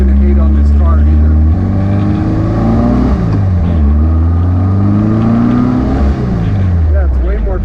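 A 1957 Porsche Speedster replica engine hums and climbs in pitch as the light car accelerates through the gears, a steady loud drone with rising and falling revs, heard from on board.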